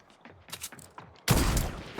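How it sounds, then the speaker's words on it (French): In Fortnite, a sniper rifle shot rings out at a distance, giving a loud broadband burst about halfway through. It follows softer scattered game sounds and footsteps-like clicks, then sustains as a dense noisy wash. "Balle de snipe au fond."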